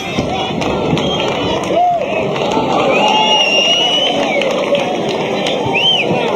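Boxing arena crowd between the 11th and 12th rounds of a world title fight: steady cheering and crowd roar throughout, with an announcer's amplified voice heard over it.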